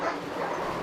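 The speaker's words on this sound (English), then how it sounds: "That is my dog barking." A pet dog barks loudly and close in one dense, unbroken burst of yapping, with no talk over it.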